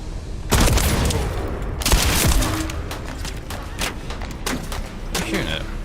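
Rapid gunfire in the video game The First Descendant, dense bursts of shots and thuds layered over game noise, with a player speaking over it.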